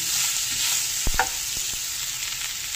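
Spices with a spoon of Kashmiri red chili stir-fried in a pan for sweet amla pickle: a steady close sizzle broken by a few sharp spoon scrapes and knocks.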